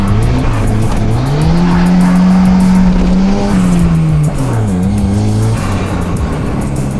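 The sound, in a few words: turbo car with blow-off valve and exhaust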